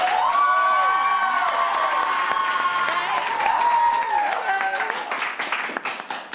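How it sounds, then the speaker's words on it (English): A live stage-show crowd claps and cheers to vote for a performance, loud clapping with high shouts and whoops over it, starting strong then thinning into scattered claps toward the end. "you will clap for the one that you want to see us perform"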